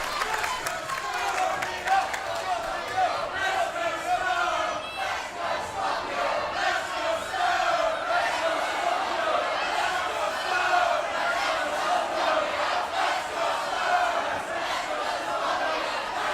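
Wrestling crowd at an independent show chanting and roaring, split between two wrestlers facing off in the ring, a dense rhythmic wall of voices, loud and continuous throughout.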